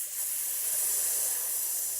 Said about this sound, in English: we'll hiss through our teeth